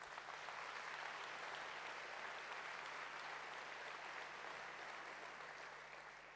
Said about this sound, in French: Vous pouvez là aussi les applaudir d'ailleurs